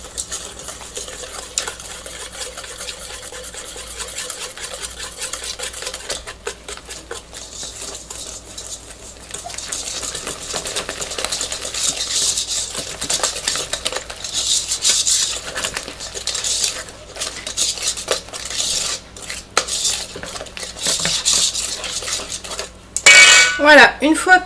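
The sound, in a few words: whisking batter in a bowl with a whisk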